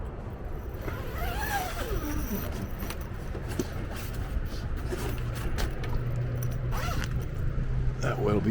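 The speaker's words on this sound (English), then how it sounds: "Let me zip that back up" A zipper is pulled closed on a 2022 Revel camper, a few scratchy rising zips against a steady outdoor background with a low motor hum and distant traffic.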